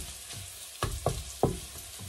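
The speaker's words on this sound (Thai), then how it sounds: "เราก็จะใส่หมูไปนะคะนิดหน่อย ใส่หมูลงไปผัดค่ะ" Pork hitting a hot wok with golden fried garlic and shallots, giving a steady sizzling hiss with three sharp bursts of louder crackling as pieces are tossed in and stirred, close and alone.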